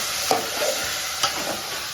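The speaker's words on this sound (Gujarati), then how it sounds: "આટલું મીઠું હલાવી દઈશું હરખી રીતે." Cooked vegetables with salt are stirred in a hot pan, giving a steady close sizzle with a couple of brief spatula scrapes.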